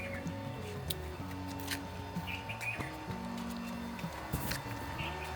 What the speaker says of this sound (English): can you hear birds chirping?